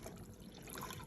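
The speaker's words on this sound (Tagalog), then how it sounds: "So ibubuhos na po namin dito yung tubig." Water poured from a container over eggs in brine to salt them, a steady close splashing and filling sound with no talk.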